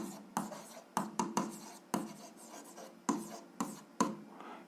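Pen strokes on paper while working a 7th-grade algebra exercise, a series of short scratchy bursts with sharp onsets and pauses between them, close and quiet.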